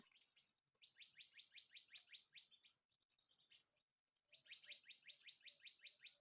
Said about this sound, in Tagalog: habang kumakain ako ay kinantahan ako sa ibon na sigwit